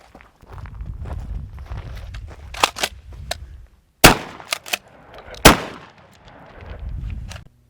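Benelli SuperNova pump shotgun firing Remington Magnum double-aught buckshot: three sharp, loud gunshots a second or so apart, with shuffling and handling noise in the quieter gaps between them.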